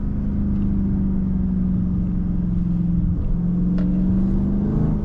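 Crashed Dodge Scat Pack on worn rear tires accelerating hard in second gear: a steady, loud engine drone whose pitch climbs gradually, heard from inside the car with no talking.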